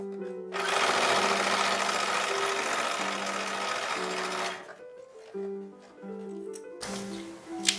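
A sewing machine stitches a belt onto the back of a dress bodice, running in a loud, fast whirring burst for several seconds, then stopping and restarting in shorter runs with small clicks between.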